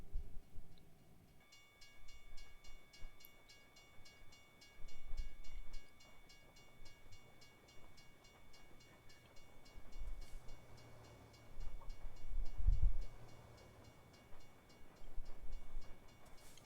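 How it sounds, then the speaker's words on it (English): Faint passing train in the video game American Truck Simulator, a low rolling rumble with a steady tonal hum swelling and fading over several seconds, heard from inside a truck cab. "Train passing by."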